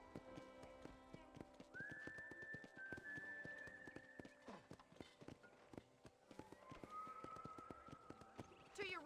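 Horse hooves clip-clop at a steady riding pace in the video game Red Dead Redemption, on a ranch, with a whistle or whinny rising above the rhythmic clopping and a voice talking over it.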